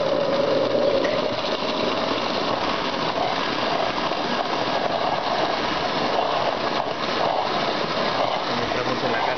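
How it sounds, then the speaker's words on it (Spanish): A blender whirs steadily and loudly as it purees cocona fruit with cold water for Peruvian juice, a dense continuous motor roar with no break. "Los vamos a licuar."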